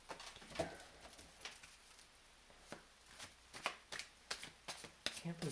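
Playing cards are shuffled close up in repeated crisp riffles and snaps during a card-reading session, with intermittent soft talk alongside.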